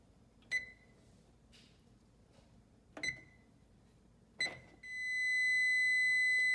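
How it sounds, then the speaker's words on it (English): Kitchen timer chirping three short, spaced beeps, then sounding a sustained steady alarm tone for the last couple of seconds, fairly quiet in a still room. "So our timer is up for the first 5 minutes."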